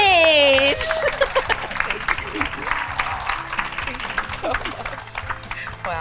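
An audience at a success panel event applauds as a guest is welcomed to the stage, sustained crowd clapping that stays fairly loud throughout, with voices mixed in.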